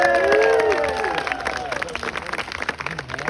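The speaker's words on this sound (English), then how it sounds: "And one more round of applause for Nico." A crowd at the Scarborough Pinwheel Sideshow applauds and cheers for a performer, the clapping starting loud over a brief vocal tone and continuing in a busy patter with crowd noise.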